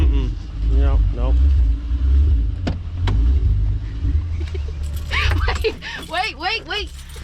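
Cars are started one after another, with engines cranking and catching into a low rumble, close and loud, under several people talking and laughing, with whooping voices near the end.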